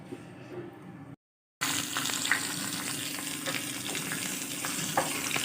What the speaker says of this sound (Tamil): அடுப்பில் ஒரு பாத்திரத்தை வச்சு அதில் கொஞ்சம் எண்ணெய் போட்டேன் கொஞ்சம் கடுகு உளுத்தம்பருப்பு